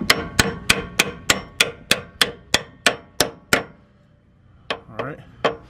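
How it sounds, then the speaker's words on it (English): A regular hammer strikes metal on the rear shock of a Chevrolet Tahoe. Eleven loud, evenly spaced ringing clangs come close together, followed by a pause and then a few more scattered hits. "I got me a regular old hammer that I'm gonna try to use"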